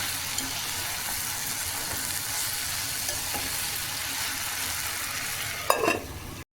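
Tomatoes and tamarind frying under a lid in a pan for dosakaya tomato pachadi, giving a steady, dense sizzle throughout, with a short clatter near the end.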